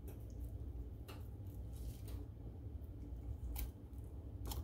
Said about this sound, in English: you use this to cut into the shell, it's quite all right to go ahead and cut the meat